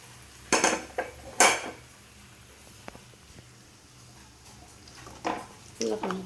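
Potatoes go into a pan of puri masala and are stirred with a utensil, giving a few sharp metallic scrapes and clatters against the pan, then quiet, then more scraping near the end.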